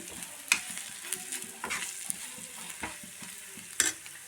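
Chicken masala is stirred in a pan, a soft sizzle punctuated by irregular scraping strokes and a few sharper clinks of the spoon against the pan, close and fairly quiet.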